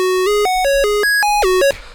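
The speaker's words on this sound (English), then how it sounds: "So this sound is a pretty basic square wave." Basic square wave synth with no effects, playing a quick sequence of about nine bright, buzzy, evenly held notes that jump in pitch, loud and dry, with a brief noisy tail at the end.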